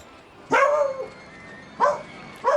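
A pet dog barking indoors, three sharp, close barks spaced over a couple of seconds, the first one longer and drawn out.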